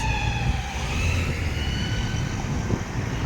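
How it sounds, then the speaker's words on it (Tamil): An emergency ambulance siren wails on a street in Kingston, London, with sweeping tones over loud, steady traffic noise. "இது வந்து ஆம்புலன்ஸ், எமர்ஜென்சி ஆம்புலன்ஸ்."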